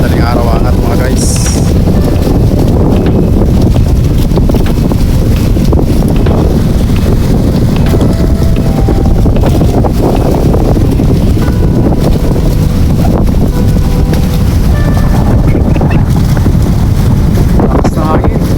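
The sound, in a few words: strong wind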